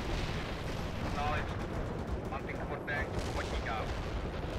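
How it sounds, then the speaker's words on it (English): Artillery strikes in the video game World in Conflict, a continuous rumbling roar of distant blasts and explosions forming a dense, steady wall of low noise with faint voices underneath. "We're just gonna keep calling in artillery strikes."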